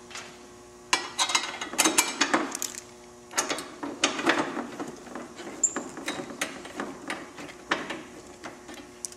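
A bolt being tightened while a Witchdoctors Game Ender fender is installed on a Victory Cross Country motorcycle: bursts of quick ratchet clicks with short pauses between, close and fairly quiet, no voices.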